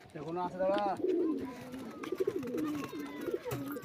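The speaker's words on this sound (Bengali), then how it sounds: "এই দেখো কত সুন্দর সুন্দর পায়রা" Pigeons coo repeatedly in soft, rolling calls, close and fairly clear, with a person talking over part of it.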